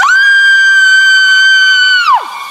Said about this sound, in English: Suddenly, she heard a loud scream in her ear.